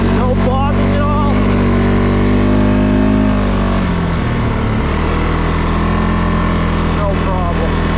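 A 2022 CFMOTO CFORCE 600 ATV engine pulls steadily up a bumpy hill, a continuous loud drone that dips briefly in pitch midway, with someone talking over it.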